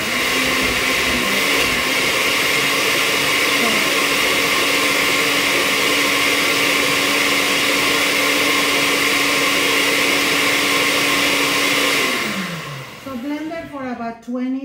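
Kitchen blender whirring on green chile verde salsa, a loud, steady motor roar for about twelve seconds before it winds down and stops.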